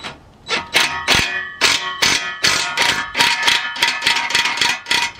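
Steady metallic ratcheting and clanking as a 12 mm nut and 13 mm bolt are wrenched tight on a new exhaust gasket of a BMW E60 5 Series DPF, a close, busy series of clicks and clangs with no talking.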